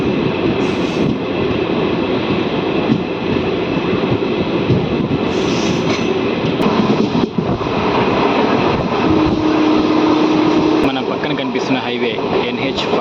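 A DEMU train pulling out of Gollapalli on the Mahabubnagar–Kacheguda line, heard from inside as a steady loud rumble and rattle of wheels and carriage with a brief higher whine partway through, continuous throughout.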